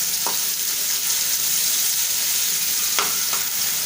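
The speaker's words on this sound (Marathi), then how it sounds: "तेल आपलं छान गरम झालं की आपण बारीक केलेला कांदा तो टाकूया।" Finely chopped onion frying in hot oil for a Malvani potato bhaji, a continuous loud sizzle and hiss with a few clinks of a stirring spoon against the pan.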